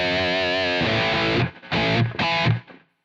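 Heavily distorted modern rhythm electric guitar from a Quad Cortex preset rings out in a sustained chord, then three tight, chugging palm-muted hits with abrupt stops, loud and up close.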